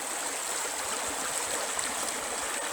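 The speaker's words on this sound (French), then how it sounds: "La rivière qui fait une courbe, les cailloux qui barrent le lit de la rivière en travers." A river curving over a bed of stones that cross its channel gives a steady, close, broadband rushing, unbroken and fairly loud with no voices.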